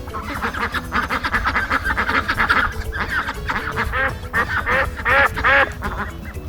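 Loud, busy quacking from several ducks at once, overlapping calls in rapid bursts, close up with no talking.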